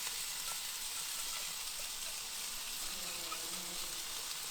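Sauce with peppers sizzles in a hot pan on a Big Green Egg ceramic grill, a steady, quiet hiss and crackle running evenly throughout with no talking.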